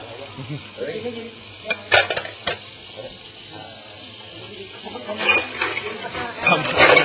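Dishes being washed by hand in a home kitchen at lunchtime, with scattered clinks and clatters of plates and utensils over running, splashing water, some knocks louder and closer.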